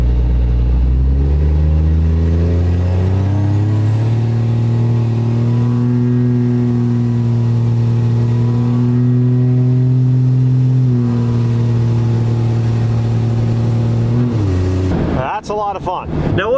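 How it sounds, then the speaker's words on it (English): A Cummins 5.9 diesel truck accelerates hard from a roll in a smooth pull, its loud, close engine drone climbing steadily for about fifteen seconds before cutting off abruptly. "just a nice smooth acceleration pull, nothing crazy"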